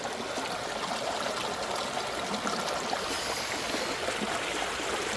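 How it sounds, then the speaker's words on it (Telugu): Floodwater rushing steadily in a fast-flowing stream after a cyclone, a continuous churning roar with no pauses, close and fairly loud. "అదే ఫోర్స్గా పోతున్నాయండి నీళ్ళు."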